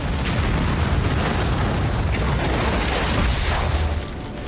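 Methane built up inside a garden shed ignites into a giant fireball, heard as a loud continuous roaring blast that rumbles for several seconds before easing off slightly at the end, with no voices.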